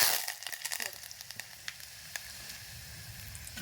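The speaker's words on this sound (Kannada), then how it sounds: "ಈಗ ಜೀರಿಗೆ ಸಾಸಿವೆ ಚಟಪಟ ಅಂತ ಸಿಗ್ಲಿರ್ತಾವಲ್ರಿ" Cumin and mustard seeds crackle and sizzle in hot oil in a pan, with a steady frying hiss punctuated by sharp, irregular pops, loud at first then settling into continuous close crackling.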